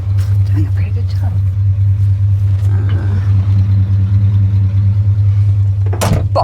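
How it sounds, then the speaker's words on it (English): Steady, loud idle of a car engine parked while being straightened up on a road trip, a low constant hum with rumble running throughout, faint voices and a brief louder knock near the end. "Now I'll straighten up my car a little bit."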